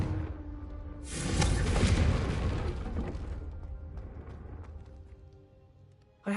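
A Confringo fire spell from the Hogwarts Legacy game erupts in a loud booming burst that swells, rumbles for a few seconds and slowly fades away, then a short thump closes the clip.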